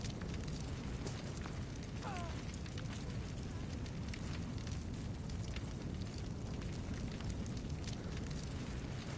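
Fire crackling and roaring in Assassin's Creed Odyssey, a steady, dense burning rumble throughout, with no pauses.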